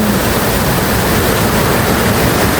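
Floodwater rushes through Barangay Banilad in Pinamalayan, Mindoro, a loud, dense, unbroken roar that stays steady and close throughout.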